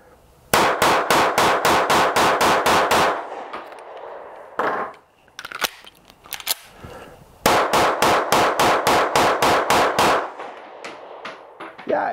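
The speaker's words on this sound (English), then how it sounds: "Let's just go ahead and do some mag dumps on this thing." Rapid mag dumps from a Ruger MAX-9 Pro pistol: two fast strings of about ten sharp, loud shots each, near and evenly spaced, with scattered clanks and handling noises in the pause between strings.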